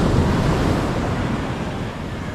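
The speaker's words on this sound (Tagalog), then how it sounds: "Dito tayo sa tabing dagat." Ocean waves wash steadily onto the seashore close by, a loud continuous surf roar mixed with wind buffeting the microphone.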